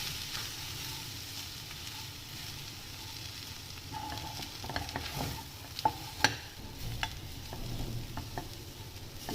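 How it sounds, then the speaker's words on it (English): A spoon stirs fenugreek leaf sabji with potatoes, onions and coarsely ground groundnut powder in a hot pan, producing soft scraping and a few sharper clinks over a faint, steady sizzle. "giving it a good mix"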